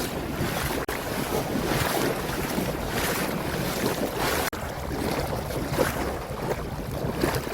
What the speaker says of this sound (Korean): 물살이 엄청납니다.